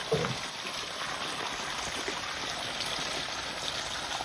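Irrigation water runs steadily through a groundnut field on a farm at night, a constant close splashing flow with no one speaking.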